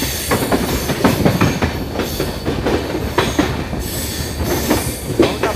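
A train on the Mumbai–Nashik line rumbles loudly and continuously through a mountain tunnel, wheels clattering and squealing on the tracks, with a roaring, echoing hiss throughout.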